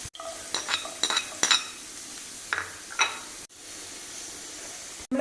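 Cashew nuts fry in hot oil for a street-stall style beef biryani, with a steady sizzle broken by several sharp clinks of a metal spoon against the pan, close and fairly loud.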